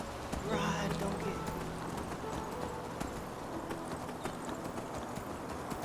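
A mount's hooves clip-clopping on the ground while riding in Enderal, a steady rhythmic trot heard under a brief animal call and background game ambience, with faint speech nearby.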